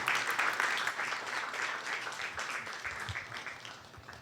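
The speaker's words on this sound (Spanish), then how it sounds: "Denle un aplauso fuerte." Congregation applause after a prayer at a church discipleship class, a full, steady wash of many hands clapping at moderate volume, strongest at the start and tapering slightly over four seconds.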